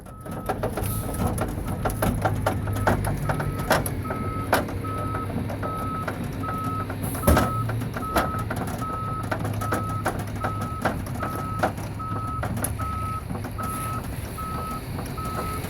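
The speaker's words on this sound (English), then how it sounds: "we're going to take that pump handle and we're going to pump the lift out" Wheelchair lift on an MCI bus being pumped out by hand with a pump handle: a steady rhythmic mechanical clatter and pumping under a continuous run of evenly spaced electronic warning beeps, close and sustained.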